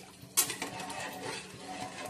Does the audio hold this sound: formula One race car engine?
no